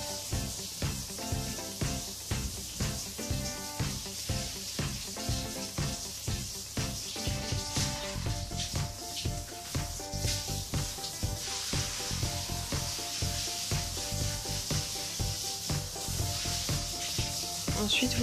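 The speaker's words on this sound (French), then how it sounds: "Vous pouvez commencer à allumer l'eau, vous testez la température," Shower water runs steadily in a shower cabin while a dog is being washed, a continuous close hiss of spray with a faint tune in the background.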